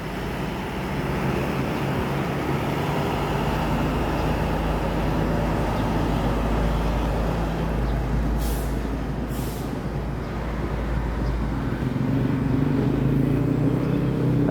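Buses, including a Volvo tronton coach, pull in one after another, their engines rumbling low and steady. Midway through come two short, sharp hisses of air brakes close together.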